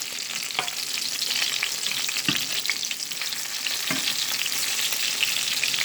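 Meatballs fry in hot oil in a pan with a continuous dense crackling sizzle, close and even, broken by a few soft thumps as they are turned, and no voices.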